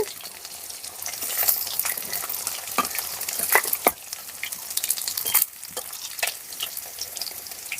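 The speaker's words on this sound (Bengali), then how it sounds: "মাছগুলো এইভাবে ভেজে নেবেন" Oil sizzles and crackles steadily as snakehead fish fries in a pan, with occasional sharper pops and a few brief scraping stirs.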